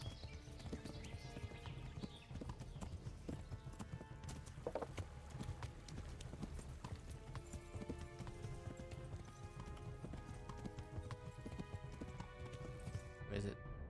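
Continuous rhythmic hoofbeats of a horse ridden in Kingdom Come: Deliverance drum on without pause for the whole stretch, dense and close, layered over a steady rushing outdoor game ambience.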